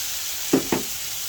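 Tomatoes crushed while sautéing in a pan for bitter-gourd stir-fry give two quick soft squishing presses over a constant faint sizzle.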